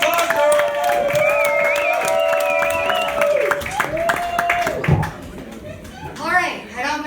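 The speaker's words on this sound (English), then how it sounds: "Start clapping right now." Audience applause and chatter in a New York comedy club as a comedian is introduced, steady crowd noise across the whole stretch with a faint high tone over it.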